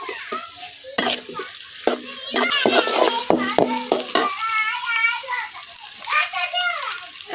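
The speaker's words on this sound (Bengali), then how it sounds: "পেঁয়াজটা কিছুক্ষণ ভাজি করে নেন।" Chopped onions sizzling and being stirred in a frying pan in a village kitchen, with steady crackle, repeated sharp scraping stirs and a voice talking over it.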